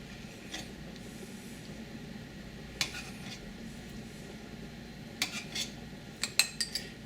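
A metal spoon skims fat from a simmering pot of pork pozole rojo, with a few sparse clinks and scrapes against the pot over a steady low bubbling hiss.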